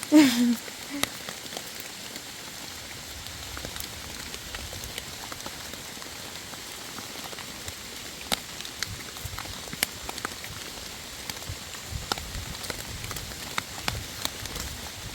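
Steady rain patters across a wet forest floor in rural Thailand during mushroom foraging, a fine continuous hiss with scattered sharper drops close by, and no clear talk.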